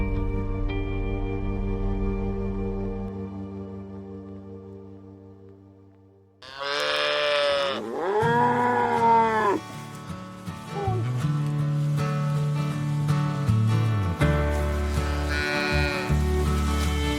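Cattle on a Texas ranch pasture moo loudly in several long, drawn-out calls, one after another, over a steady low hum in the background.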